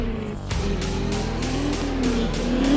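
Engine of a Defender SUV in the Indian Vehicle Simulator game roaring steadily while the stuck vehicle's wheels spin, with rising revs toward the end and no talk.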